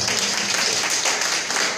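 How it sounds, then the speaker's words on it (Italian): Guests at an outdoor birthday party in Italy clap together in a short, loud, dense burst of applause. "Un po' di applausi per l'Africa."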